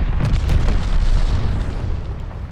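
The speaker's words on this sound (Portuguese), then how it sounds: "Bomba planadora inimiga chegando." An enemy glide bomb explodes in Call of Duty: Vanguard, a sustained low rumbling blast that rolls on loud across the whole moment and fades slightly at the end.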